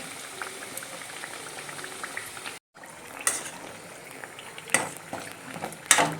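Alavangu, a Kerala snack, deep-frying in oil, with a steady bubbling fizz broken by a brief silence and a few sharp metallic clinks of a utensil against the pan, close by.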